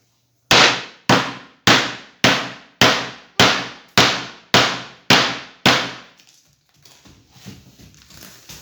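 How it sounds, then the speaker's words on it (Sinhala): Rubber mallet striking a screen printing frame while the screen mesh is stretched and fixed: nine loud, evenly spaced strikes, each a sharp impact with a quick decay, followed by softer scattered handling noise. "මේ රබර් මිටියෙන් ගහද්දිත් මේ වගේ ලොකු හයියෙන්ම ගහන්න ඕනේ ඒක"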